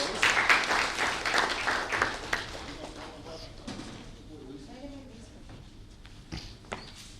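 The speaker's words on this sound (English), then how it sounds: "Your big round of applause." A burst of clapping and applause fills the first few seconds, then fades into quieter room noise with scattered claps and murmurs.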